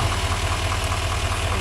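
A 2018 Chevrolet Silverado 3500HD High Country with a Duramax diesel and Allison transmission idles steadily, a continuous low engine rumble with a faint knocking texture, close and even throughout with no talk.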